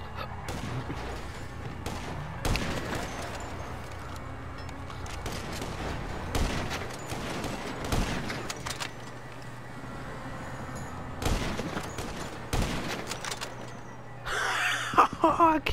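Gunfire in the video game Grand Theft Auto Online, scattered sharp shots and bursts ringing out across a steady background hum, some louder cracks spaced several seconds apart.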